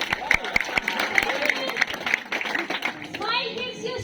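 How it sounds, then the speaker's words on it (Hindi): Audience clapping around a campfire in Munnar, a brisk run of claps with a voice and other talk mixed in, fading into chatter at the end. "जोरदार तालियां हुसैन एक फनकार की।"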